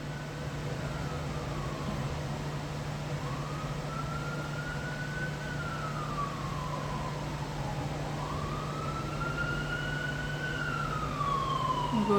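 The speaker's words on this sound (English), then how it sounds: "Here goes the ambulance." An ambulance siren wails outside at a distance, its pitch sweeping slowly up and down in long arcs over a steady low indoor hum, moderately faint and growing a little louder toward the end.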